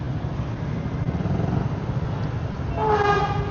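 A train rumbles past with a steady low roar, and a horn sounds near the end, loud and close over street traffic, heard from a Kymco Like 150i scooter stopped at a traffic light.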